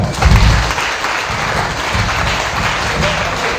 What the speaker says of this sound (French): Il faut applaudir le fédéral.